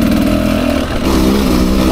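A 2024 Beta 300 RR Race Edition two-stroke dirt bike is ridden on a washboard trail, its engine loud and close with a buzzing, rattling drone that dips briefly then pulls hard again.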